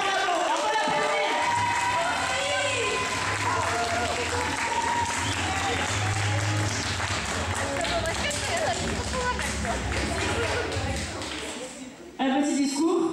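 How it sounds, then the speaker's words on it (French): An audience applauds after a quiz win at a lab event, dense sustained clapping with cheering and crowd voices mixed in, breaking off near the end. "On peut l'applaudir."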